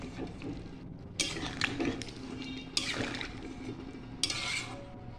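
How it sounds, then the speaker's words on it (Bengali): A spoon stirs an egg, potato and cauliflower curry in a pan, making soft scraping and a few sharp metallic knocks against the pan at close range, fairly quiet overall. "আমি নাড়াচাড়া করে নামিয়ে নেব।"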